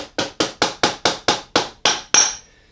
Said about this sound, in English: I got my axle inside, and I can just get my little rubber mallet.